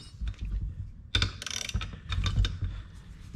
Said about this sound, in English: Let's take our ratchet and snug them up real good.